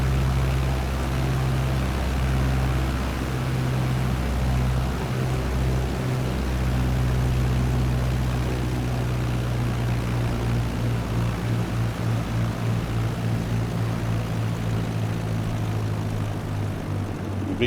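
A Fieseler Storch propeller plane with big tundra wheels comes in to land in Microsoft Flight Simulator, its engine drone steady and loud throughout with a low propeller hum that wavers slightly as the approach goes on.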